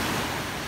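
Small sea waves wash near the shore, a soft, continuous rushing hiss with faint wind noise, steady and unbroken over the short stretch.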